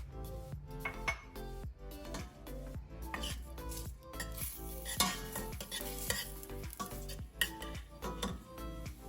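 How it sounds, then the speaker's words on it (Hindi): Chopped onions frying in a spoonful of oil in a pan, stirred busily with a utensil: rapid scraping clatters and metallic knocks over a constant close sizzle. "मैंने तकरीबन 2 मिनट के लिए प्याज को ऑयल के अंदर फ्राई किया"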